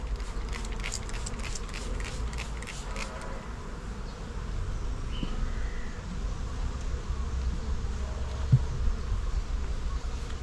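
Honeybees buzz around hive frames in an apiary, a steady low droning hum continuing throughout at moderate level, with a brief run of light rhythmic tapping near the start.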